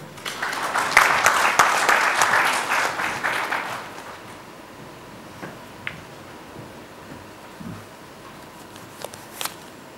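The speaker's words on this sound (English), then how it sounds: "Let's have a warm round of applause, ladies and gentlemen" Applause at a freight forwarders' convention knowledge session swells loudly for about four seconds and then fades, leaving a quiet room with a few isolated claps and small knocks.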